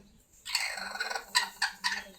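A broody hen sitting on a clutch of eggs gives close, steady low clucking and throaty gurgling calls, with several sharper bursts near the end.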